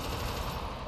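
Sentry turret in Alien Swarm: Reactive Drop firing in a continuous, dense rattle of rapid shots, loud and close throughout the short burst.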